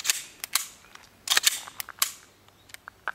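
A Walther PPX pistol is dry-fired by hand, its trigger and hammer giving sharp, close metallic clicks spaced irregularly across a few seconds, with no talk over them.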